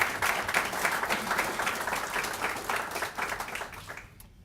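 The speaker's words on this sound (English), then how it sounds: "I'd like to give him a round of applause and his team." An audience at an airport demolition ceremony applauds, a dense patter of many hands clapping at moderate distance for a few seconds before tapering off and fading out.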